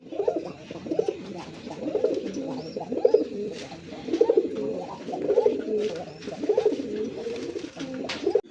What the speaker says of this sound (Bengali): এখানে আরেক জোড়া কবুতর আছে দেখেন